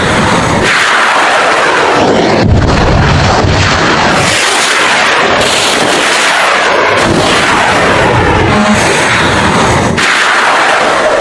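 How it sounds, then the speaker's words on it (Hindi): Loud, dense blasts from Iranian drone and missile attacks at night rumble continuously, with repeated heavy booms and crackling bursts filling the whole stretch. "धमाके आपको दिखाई देंगे, आसमान में आपको साफ रोशनी दिखाई देगी कि अटैक हो रहे हैं"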